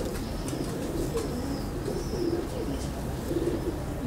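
Breeder pigeons give repeated low, soft coos close by, rising over a constant murmur of background noise.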